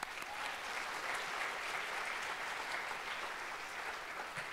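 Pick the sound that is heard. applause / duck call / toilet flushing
applause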